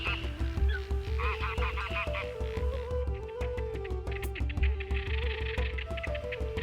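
A flock of greylag geese honking repeatedly, overlapping nasal calls at a steady loud level with busy outdoor ambience.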